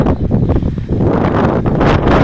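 Gusty wind buffets the microphone outdoors in a garden with loud, uneven rumbling bursts. Leaves rustle faintly underneath.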